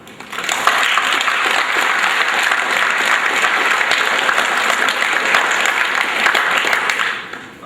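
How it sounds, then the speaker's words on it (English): An audience at a school spring sports awards ceremony applauds the parents, a loud, even burst of clapping from many hands that rises quickly, holds for several seconds and then fades. "So I'd like a round of applause for all the parents, please."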